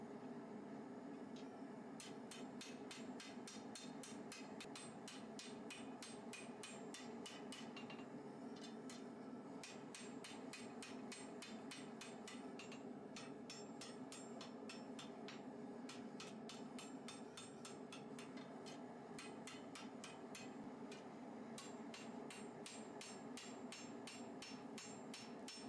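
Steady, rapid hammer blows ring out on a shinogi zukuri katana blade as its first edge bevel is forged, the metallic strikes coming in dense bursts with short pauses, loud and close throughout.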